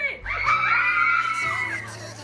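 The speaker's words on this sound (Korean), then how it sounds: "결제가 완료되는 찰나 터져나오는 이 비명과 환호는" Friends in an American home shriek together in a sustained, loud, high-pitched scream of excitement after buying concert tickets, holding for about a second before trailing off into cheering.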